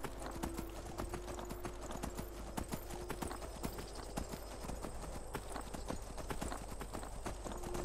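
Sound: horse hooves trotting in video game Skyrim

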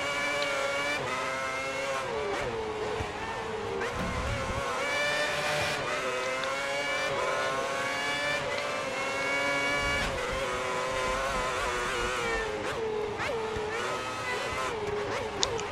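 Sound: Formula 1 race cars in F1 2010 video game

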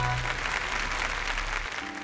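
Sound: audience applause welcoming a speaker

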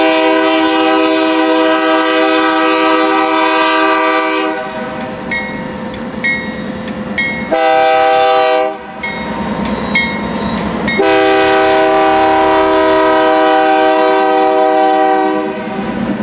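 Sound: empty unit sand train passing, led by IORY 4505

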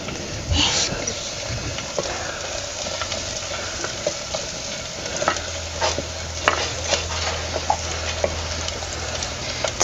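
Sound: grated coconut frying and being stirred in oil

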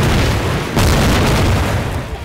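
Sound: bomb explosion in Garry's Mod video game

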